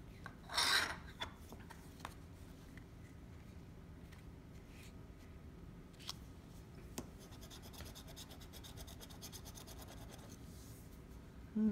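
Lottery scratch-off tickets being scratched, a soft quiet rasping that comes and goes in short bursts, with a louder burst near the start and no talking.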